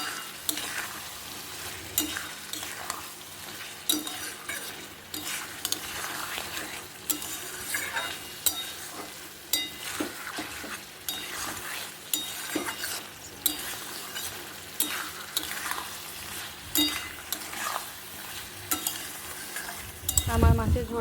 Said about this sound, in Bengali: এবার ভালো করে নাড়িয়ে ভালো করে কষে তারপরে জল ঢেলে দেবো।